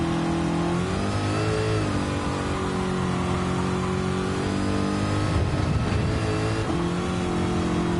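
A Trans Am muscle car's engine in a racing video game drones loudly and steadily, its revs rising and dipping as the gears are worked, with no talking.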